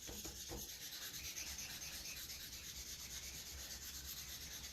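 Wet sandpaper rubs steadily over a soapstone pipe blank in a continuous, even scraping at close range, with no pauses and no voices.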